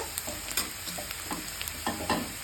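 Noodle stir-fry ingredients fry in a pan with a soft continuous sizzle, broken by a few sharp scraping and stirring knocks, quiet and close with no talk.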